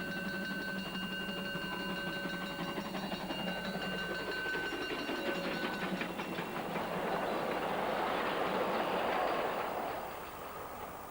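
A train runs along the narrow-gauge line from Kranzahl to the ski resort of Kurort Oberwiesenthal, its steady rolling rumble and clatter holding alone throughout, with faint tonal squeals early on and a swelling wash of noise near the end.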